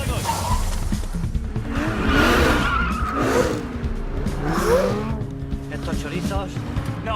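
Tires skid and squeal in a car chase after a Lamborghini, with engine noise and voices talking throughout over the screeching.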